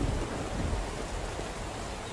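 Steady rain hiss in the survival game SCUM, a dense even wash of falling drops with a faint low rumble, continuous and fairly soft with no voices.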